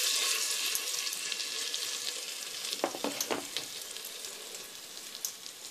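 Chopped ginger sizzles steadily in hot butter in a pan, a continuous bright frying hiss with a few soft stirring clicks and crackles near the middle, close and moderately loud with no talking.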